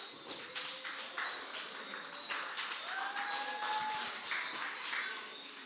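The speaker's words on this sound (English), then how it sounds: "let's give all of them, come, a round of applause" Scattered applause and tapping from an audience at a school honours ceremony for students, moderate and steady throughout with a faint tonal whistle drifting over it.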